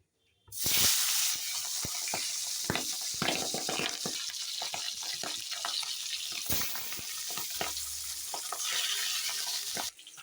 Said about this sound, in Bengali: তেল ধোয়া ওঠা মানেই পুরোপুরি গরম হয়ে গেছে এখন আমি মাছগুলো আস্তে আস্তে দিয়ে দিই